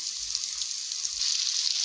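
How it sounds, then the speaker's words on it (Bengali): Potatoes seasoned with turmeric and salt sizzle in hot oil, a steady bright hiss with no voices. "তেলের মধ্যে আমি আলুটা দিয়ে দিয়েছি"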